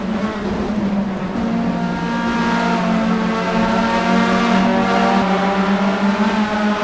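Onboard race car engine at a Dijon hill-climb meeting, a loud, continuous close engine roar that rises and falls through revving and downshifts into a corner.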